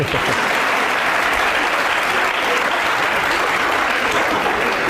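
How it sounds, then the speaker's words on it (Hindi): A studio audience claps steadily in a loud, dense wash of applause that fills the room without pause, with no voices standing out above it. "ताली बजाओ मेरे लिए यार."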